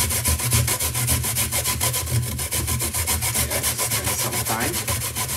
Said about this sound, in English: this is my coconut. This is my grater, and I am going to grate it like this.